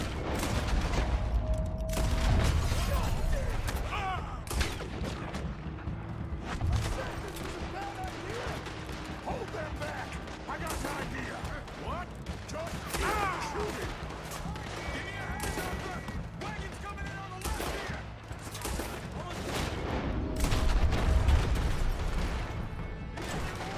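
Dense gunfire fills a Saint Denis bank heist shootout in Red Dead Redemption 2 on PS4: rapid overlapping shots, crashes and booms, loud and nearly continuous, with voices faintly mixed in.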